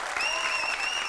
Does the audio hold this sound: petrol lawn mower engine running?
no